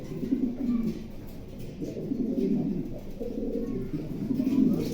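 Racer pigeons coo in low, repeated throaty phrases close by at a pigeon farm, overlapping one another with a soft background murmur.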